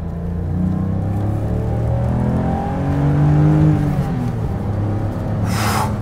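Race-engine car accelerating in second gear onto a national road from an on-ramp, a loud steady engine drone with rising harmonics heard from inside, continuous with no talking.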